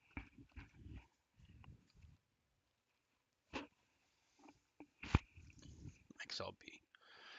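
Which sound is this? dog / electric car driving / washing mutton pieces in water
dog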